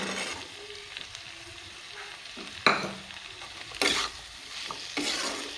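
Boiled green peas are stirred into spices frying in a pan, a low sizzle under scraping strokes of a spatula, with several louder bursts of stirring close by and no talk.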